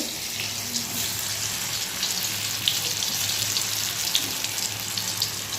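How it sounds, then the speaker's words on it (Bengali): Dhoka lentil cakes fry in oil in a kadai, making a continuous even sizzle and crackle at moderate, steady loudness. "এভাবে সব ধোকাগুলোকে আমি ভেজে নেব"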